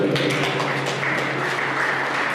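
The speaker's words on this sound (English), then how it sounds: "A round of applause for them, please." A crowd claps in dense, continuous applause at a police school visit in Nigeria, steady and fairly loud throughout.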